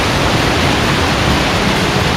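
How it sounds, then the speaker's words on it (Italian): Waterfall on the swollen, fast-flowing Rio Mannu in Sardinia roars as a loud, steady broadband rush of falling water, continuous and close, with no voices. "oggi il Rio Mannu è veramente impetuoso, guardate che bella cascata"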